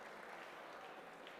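An evening hackathon audience at a university event claps to welcome panelists, a faint, steady wash of applause heard from a distance.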